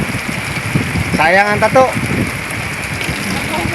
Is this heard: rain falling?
yes